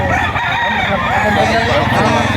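Chickens and roosters at a busy poultry market in Lipa, Batangas, crowing loudly and continuously, several birds overlapping nearby amid a constant dense clamor.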